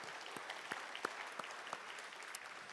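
Applause from an audience at an APA Heritage Month celebration, heard as faint, thin clapping with a few distinct sharp claps standing out, continuous through the moment.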